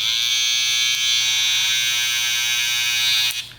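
An old Babyliss hair trimmer runs steadily with a close, loud, high-pitched electric buzz that holds for over three seconds before cutting off at the end.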